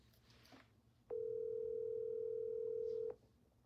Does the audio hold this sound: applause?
no